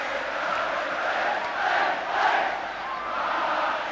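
Large stadium crowd at a 2000 Leeds versus Castleford rugby league playoff roars and chants steadily, swelling in waves, loud and sustained without a clear voice over it.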